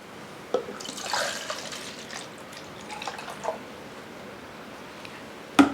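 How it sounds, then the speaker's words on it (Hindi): Water is poured from a measure into thick curd in a cooking pot for a sweet lassi, a soft splashing gurgle with a few clinks, close and fairly quiet. "मैं आपको सीधा पानी डालकर इसमें दिखा देता हूं"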